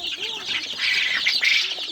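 Broiler and native chickens cluck and chatter together indoors on a small poultry farm, a dense, continuous close-up flock noise with a few distinct calls rising above it.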